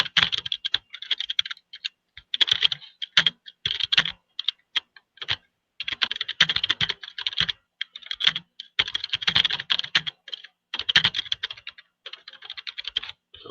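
Text being typed on a computer keyboard: close, crisp key clatter in quick bursts separated by brief silences, with no voices.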